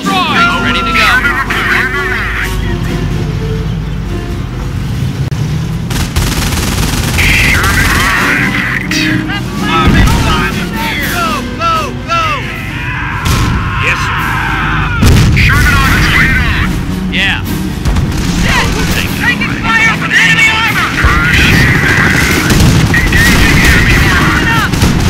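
World War II battle in the Company of Heroes video game, with dense, loud gunfire and booming artillery going on throughout amid engine rumble, while soldiers' shouted voice lines keep coming through the din.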